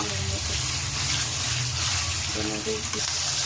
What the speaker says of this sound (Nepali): यसलाई चाहिँ मजाले फ्राई गर्नुपर्ने हुन्छ